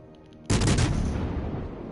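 A single heavy naval gun salvo in World of Warships Legends fires loud and close, a sharp blast that booms and then rolls off into a long fading rumble.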